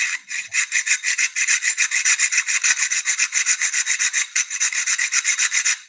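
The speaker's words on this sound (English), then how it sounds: "That's a coping saw, but it's actually got this carbide on here that can do the same thing." A coping saw fitted with a carbide grit blade rasps through tile in quick, even back-and-forth strokes, a loud gritty scraping heard alone with no talking.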